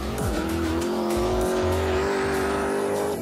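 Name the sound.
1000 hp BMW 3 Series car drifting at high speed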